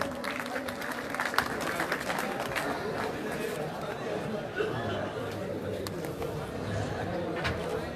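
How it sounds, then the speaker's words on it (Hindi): Audience applause and clapping at a crowded gathering, a steady patter of claps running throughout beneath crowd chatter and voices. "वो तालियां बजा दिया करो यार।"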